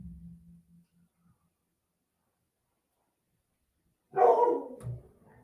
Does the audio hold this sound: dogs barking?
yes